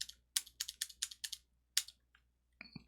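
Rapid keyboard typing, close up, in two bursts of sharp clicking keystrokes separated by a pause, with a final few taps at the end.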